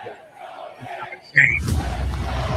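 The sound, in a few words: basketball crowd trying to cheer, let's go Knicks chants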